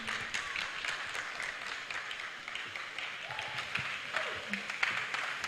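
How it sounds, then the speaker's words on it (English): Applause from a conference audience at a university blockchain event as a team comes on stage, a faint, continuous patter of clapping with murmured voices and some scattered noises mixed in. "Okay, round of applause, round of applause"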